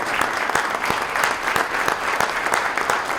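A steady round of applause from an audience at a city State of the City address, dense and even clapping throughout with a few sharper individual claps standing out.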